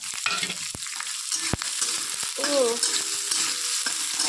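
Chopped garlic, onion and torn green chilli fry in hot oil after cumin for a spinach dish, crackling in a continuous sizzle broken by a few sharp spatula knocks and a brief squeak, with no voices.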